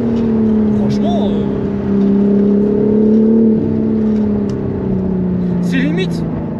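A BMW M4 Competition engine and exhaust drone steadily from inside the car while driving, swelling slightly as it pulls through a corner, with someone talking over it.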